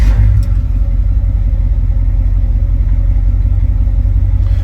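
Engine of a 1972 Chevy C20 pickup running after being fired up, a loud, close, steady low rumble idling evenly throughout with no talking.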